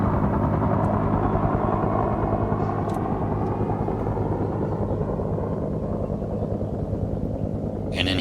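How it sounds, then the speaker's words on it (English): A helicopter in the video game Arma 3 drones steadily with a low rotor throb and engine whine, gradually fading slightly as it flies away, with someone talking over it at times. "the helicopter's going to turn around and basically fly away, or just fly away"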